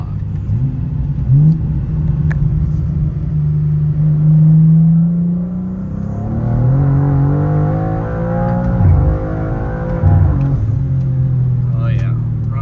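Tuned 2024 BMW M2 pulling hard, its engine note rising steadily through the revs with a couple of shifts, heard from inside the car while someone talks over the drone.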